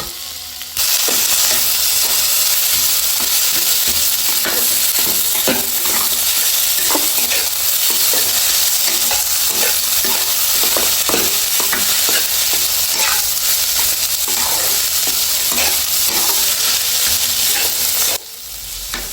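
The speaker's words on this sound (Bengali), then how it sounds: "নেড়ে চেড়ে এগুলো আমরা সমস্ত মশলার সাথে ভালোভাবে মিশিয়ে নেব" Boiled radish greens are stirred through spices in a hot pan, a steady loud sizzle with scraping stir strokes running nearly continuously, no voices.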